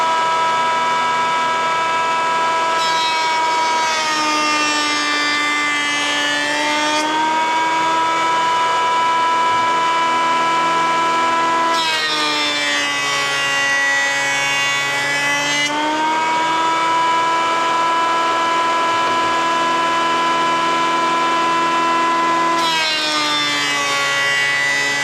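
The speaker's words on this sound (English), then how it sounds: "That was a quick little setup on the Craftsman benchtop joiner." Craftsman benchtop jointer with a steady, loud motor whine throughout, broken by three rougher bursts as boards are fed across the cutter head, each pass lasting a few seconds.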